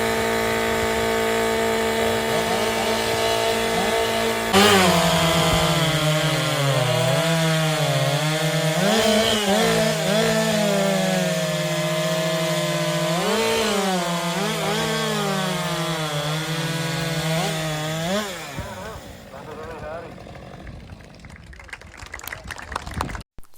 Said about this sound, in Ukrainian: Це так проходить змагання з бензопил.